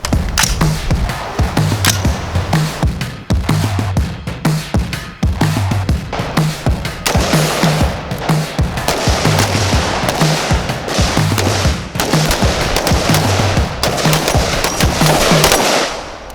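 Rapid gunfire at a shooting range, dense bursts and repeated cracks overlapping continuously at close range, loud and sustained with no pauses, like several guns firing at once.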